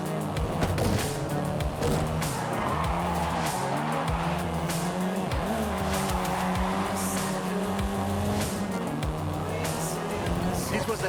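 Volkswagen Golf R racing in Forza Horizon 5, its engine droning and shifting steadily with tire noise and passing whooshes, loud and continuous throughout, with a voice talking over it.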